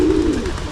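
A pigeon coos in a low, steady murmur during pigeon training, a soft throaty call that is close and continuous for under a second.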